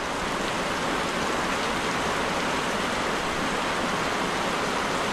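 Steady, dense rainfall pours down continuously, a broad hiss of drops hitting surfaces with no voices present.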